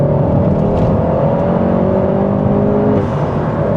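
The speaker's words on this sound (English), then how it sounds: "induction noise from that." A VW Golf GTI Clubsport S engine gives off a steady, loud induction whir under sustained throttle, a mid-pitched drone holding level for several seconds before easing slightly near the end.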